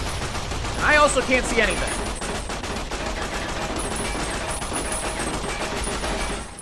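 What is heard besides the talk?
machine gun firing in Fallout: New Vegas video game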